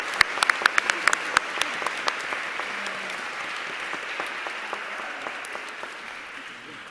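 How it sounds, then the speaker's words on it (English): An audience at the Body Shop Someday Awards 2018 ceremony applauds, beginning with sharp individual claps that settle into a steady wash of clapping fading gradually over several seconds. "One more round of applause, please"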